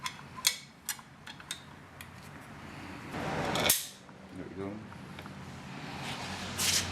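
Small plastic clips snap and click as they are fitted onto a Kenmore Whirlpool washer motor coupler, a few sharp close ticks and a brief rustle, with a voice speaking over part of it.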